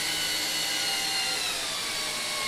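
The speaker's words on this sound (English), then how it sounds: "So put the screws back in." A power driver sets screws back into a wooden panel of a replica ITG2 dance pad, producing a loud, continuous whirring drone with a shifting pitch and no voices.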